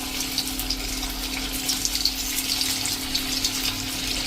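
Pieces of variya dhokli fry in hot oil over a medium gas flame, making a steady, dense sizzling hiss with fine crackles throughout.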